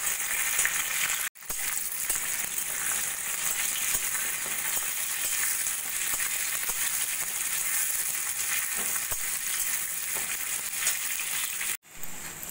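Green chillies, garlic cloves and cashews frying in a pan for a chicken gravy, a steady dense sizzle holding throughout with two brief dropouts, close and fairly loud with no talking.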